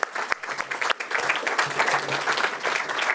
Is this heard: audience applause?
yes